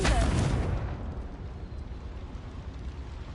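In a wizarding video game, a Confringo fire spell goes off as a loud explosive burst at the very start, then decays into a fading, rumbling roar.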